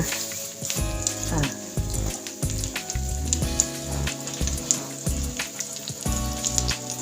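Omelette with minced pork frying in a generous amount of oil, a loud crackling sizzle interrupted by repeated clanks and scrapes of a utensil against the pan, no speech.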